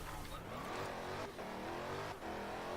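A Dodge car engine in the Forza Horizon 4 racing game revs hard toward redline, a loud continuous roar that climbs in pitch and briefly cuts out twice as the limiter hits.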